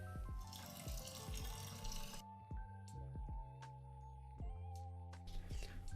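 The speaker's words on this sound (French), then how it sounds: "j'y ajoute donc de l'eau chaude, de l'eau bouillie, pour pouvoir dissoudre tout le sucre" Hot boiled water pours into a fermentation bucket for cider making, a bright splashing stream at first, then gurgling trickles, drips and light knocks, close and quiet.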